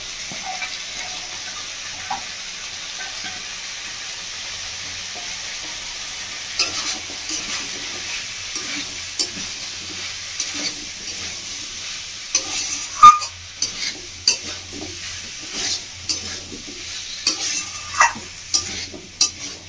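Chickpeas and peanuts fry in a pan while a spoon stirs them, giving steady soft sizzling under clear scraping clicks and taps that grow more frequent in the second half, with no voices.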